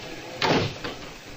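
A door in a radio drama, set at City Hall, opens and closes with a quick thud followed by a softer knock. It is short and close, with a faint background hiss and no voices.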